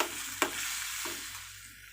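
Potato masala gravy being stirred in a pan after half a glass of water goes in, a short scrape and clink near the start over a soft, steady background hiss.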